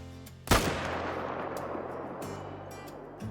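A single sharp rifle shot at a whitetail buck in theHunter: Call of the Wild cracks loudly, then rolls into a long fading echo over quiet surroundings.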